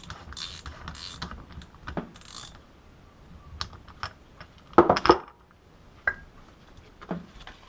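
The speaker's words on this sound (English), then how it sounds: "Now you can turn it, so you just drive it with a socket." A socket drives a wheel bearing into place on a Honda CB350. Scattered light clicks and taps sound close, with a louder cluster of metallic knocks midway through, and there is no speech.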